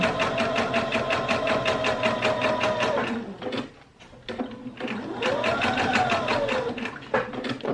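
A sewing machine stitches a bench cushion along a pinned line, whirring in a loud rapid run, pausing briefly mid-seam, then running again with a short back stitch near the end.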